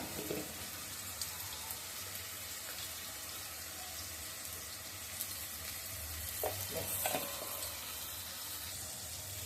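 Tomatoes and chili sizzle steadily in a hot pan, with soft scraping of stirring now and then and a faint trickle of water in the background, close and continuous throughout.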